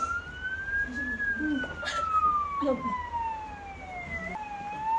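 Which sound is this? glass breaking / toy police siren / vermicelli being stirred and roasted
toy police siren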